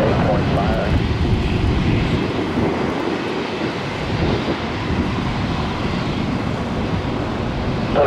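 Jet airliner passing at Atlanta Hartsfield-Jackson airport on a cold morning, a loud steady broadband engine roar that holds throughout with no pauses.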